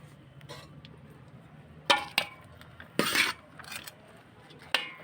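A metal spoon scrapes and clinks against a pan or bowl while hot fried rice and chicken are mixed, with several sharp, irregular knocks over a quiet background.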